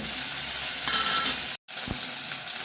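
Tomatoes tipped into a pan of frying white potato curry with green chillies, setting off a steady, close sizzle and crackle of hot oil that cuts out for a moment, then resumes just as loudly.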